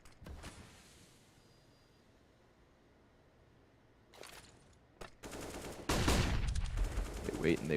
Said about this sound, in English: keep trying to pump those bullets through the walls